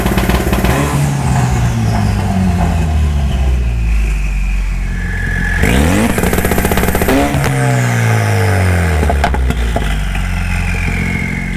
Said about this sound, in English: we're gonna hit the clutch in and punch it